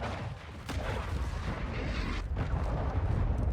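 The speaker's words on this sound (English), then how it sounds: "Friendly cruise missile approaching target." A heavy cruise missile strike explosion in Call of Duty: Modern Warfare II, a loud sustained rumbling boom with crackling blasts that swells and holds through the moment.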